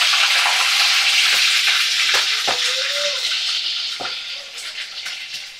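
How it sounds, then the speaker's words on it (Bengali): Prawns skewered on sticks sizzle loudly in oil in a kadai, a dense steady hiss with a few sharp crackles and clinks, gradually easing toward the end. "চিংড়ি মাছগুলোকে এবারে কড়ার মধ্যে ছেড়ে দেব।"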